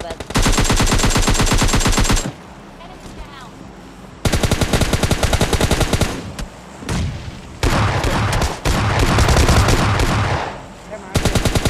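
Rapid bursts of automatic gunfire from PUBG Mobile Lite, loud and close, coming in long sustained volleys separated by brief quieter gaps.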